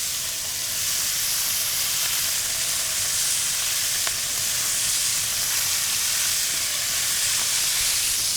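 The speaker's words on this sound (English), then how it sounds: "Gently get our pork into this pan. You wanna hear that great sizzle?" Pork shoulder sears in a hot pan with a steady, bright sizzle and hiss that holds evenly throughout, close up, with no one talking.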